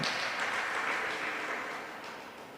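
An audience at a spiritual discourse claps steadily, dense hand applause that slowly tapers off toward the end with no voices over it.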